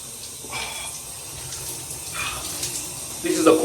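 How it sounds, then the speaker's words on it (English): Cold water runs from a shower in a bathroom, a steady hissing stream with a louder splash toward the end, while a person talks over it. "This is a cold shower."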